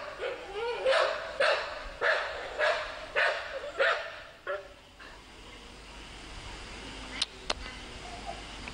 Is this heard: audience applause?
no